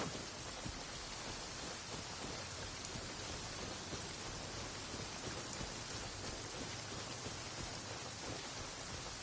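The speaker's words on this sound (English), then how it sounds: "Oh no, it's raining!" Steady, dense rainfall in Genshin Impact, a continuous broadband hiss of drops with no pauses, even in level and moderately loud throughout, with no voices.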